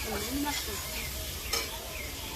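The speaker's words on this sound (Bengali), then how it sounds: "একটু ভালো করে ভেজে নেবো এগুলো" Pieces of rohu fish fry and get stirred in a pan for a Bengali poppy-seed dish cooked without onion or garlic, giving a soft close sizzle with scraping stirs and a faint voice behind.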